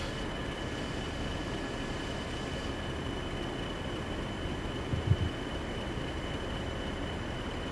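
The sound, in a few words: Class 40 oil train starting to roll, Train Sim World 3 video game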